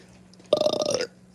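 A single loud, close burp from a person, lasting about half a second with a croaky, rattling tone, set against otherwise quiet room sound.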